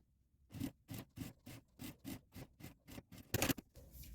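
A sewing machine stitches along the edge of a zipper on a sling bag, producing about eleven evenly spaced, close rhythmic stitching bursts with no talking.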